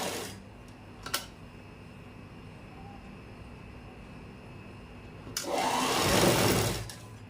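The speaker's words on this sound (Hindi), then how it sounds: "अब जैसे ये सिलाई लगाई है वैसे ही हम इस साइड की सिलाई भी लगा लेंगे।" Sewing machine stitching the side seam of a salwar: a short whir near the start, then a louder sustained burst of stitching lasting about two seconds near the end, over a quiet room hum.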